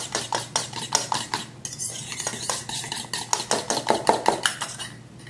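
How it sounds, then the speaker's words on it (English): A spoon stirs crab cake ingredients with lemon zest in a bowl, making rapid, rhythmic scraping and clinking strokes, close and steady throughout with a brief pause partway. "I'm going to mix those up together to get it blended through"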